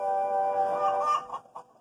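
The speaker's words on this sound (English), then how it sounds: "At long last, Farmer McColl arrived with the chickens." A chicken gives a drawn-out, nasal cluck followed by two short clucks, close and clear.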